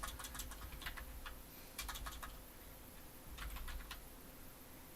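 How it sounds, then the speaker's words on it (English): Quick, light clicking of keys on a computer keyboard as an email address is typed, arriving in short bursts with brief pauses, faint and close over a steady room hum with no talking. "We type in my email address."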